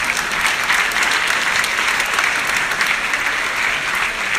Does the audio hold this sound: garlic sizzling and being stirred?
no